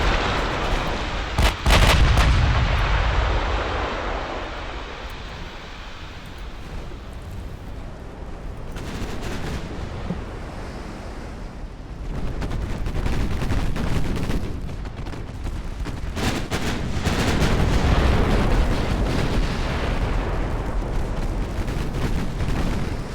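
Heavy naval gunfire from big battleship guns in the naval combat game Ultimate Admiral Dreadnoughts, with rolling booms and sharp salvo cracks recurring over a continuous rumbling battle din, loud and dense throughout.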